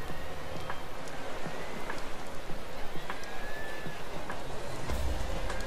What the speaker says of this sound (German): Es regnet schon. Das ist natürlich jetzt schlecht. Kleiner Minishower.